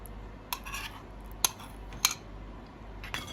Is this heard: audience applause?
no